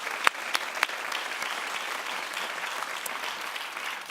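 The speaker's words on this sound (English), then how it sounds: "why don't we just give a big round of applause for Brooklyn?" An audience at a live talk show gives a big round of applause for Brooklyn, dense sustained clapping with a few sharp, close claps standing out at the start.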